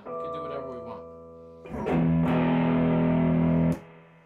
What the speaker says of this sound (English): that's the Super Badass Distortion pedal